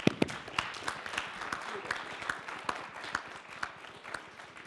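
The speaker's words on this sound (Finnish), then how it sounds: "No niin, ja aplodit osallistujille." Sparse, scattered applause from a small audience after a panel discussion on whether artists pay, with individual claps standing out and fading in and out over a few seconds.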